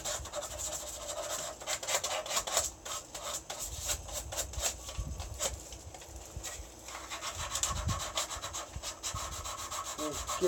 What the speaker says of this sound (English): so I got some 500 grit sandpaper, just like that, and we're going to go around the hose and clean it